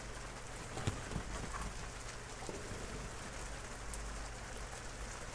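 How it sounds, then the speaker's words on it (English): Steady rain falls outside, a soft, even patter of drops on a surface heard from indoors at a moderate distance, with no voices over it. "I hope you can hear the rain"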